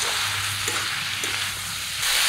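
Vegetables with eggplant and radish, coated in turmeric, chilli and cumin powder, fry and are stirred in a pan, giving a loud continuous sizzle with a few soft scrapes, and no voices.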